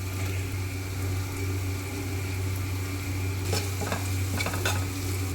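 Onions frying in a pan for a stuffed ivy gourd curry give a constant close sizzle over a low hum, with a few louder stirring scrapes toward the end.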